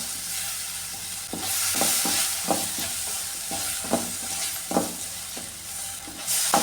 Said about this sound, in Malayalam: ഇനി ഇതിലേക്ക് ഈ ടൊമാറ്റോ ഇട്ട് കൊടുക്കാം. ഇത് നന്നായിട്ടൊന്ന് വഴറ്റിയെടുക്കാം.